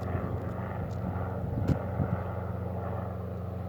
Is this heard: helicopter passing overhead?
yes